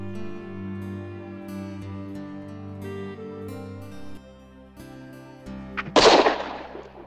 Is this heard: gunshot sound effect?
yes